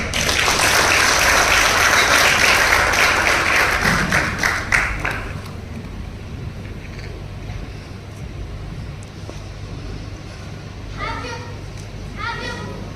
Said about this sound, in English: let's give her a round of applause again